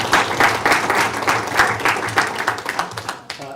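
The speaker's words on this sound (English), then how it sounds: "how about a round of applause for our speakers?" Applause from an audience at a community panel discussion on green collar jobs: steady, moderately loud clapping that thins out and fades over a few seconds.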